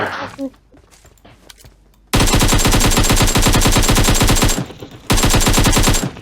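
Rapid automatic gunfire in the PUBG Mobile video game, two loud sustained bursts of fast shots, one about two and a half seconds long and another shorter one after a brief gap, following quieter in-game sounds.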